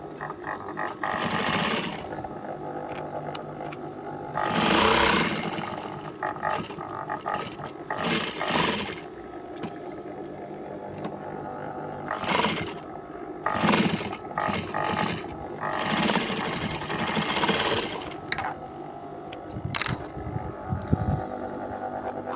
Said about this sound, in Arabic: كتعاودي الخياطه هنايا وكنبداو غاديين